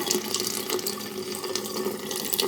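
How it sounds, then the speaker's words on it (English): Water rushes steadily through a newly installed five-stage reverse osmosis filter line as it is flushed to clear particulates, a continuous close hiss and splash like a running faucet with no pauses. "you're going to want to flush it so it gets all the particulates and stuff out of the filter line"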